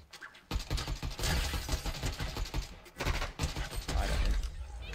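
Rapid gunfire in the Fortnite video game, a dense run of sharp shots and clattering bursts filling several seconds at close to moderate range, with a brief lull midway before the volley resumes.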